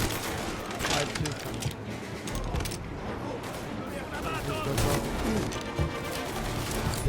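Gunfire rattles through a Mafia video game shootout, dense bursts of rapid shots and booms layered over French-speaking voices and game sound, loud and nearly continuous.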